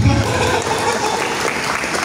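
Audience clapping during an Islamic sermon at the Hok Liong Kiong temple in Jombang, a brief steady burst of applause from a nearby group.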